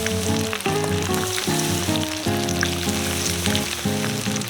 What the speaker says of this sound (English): He coats each stuffed pepper and carefully fries it until the filling is cooked through.